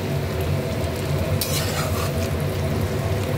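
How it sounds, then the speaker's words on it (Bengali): Potato pieces frying in oil in a pan, a loud continuous close sizzle with stirring scrapes and a brief sharper burst midway. "আলুটা ভেজে আমি তুলে রাখবো। আলুটা ভাজা হয়ে গেছে, আমি আলুটাকে তুলে নেব।"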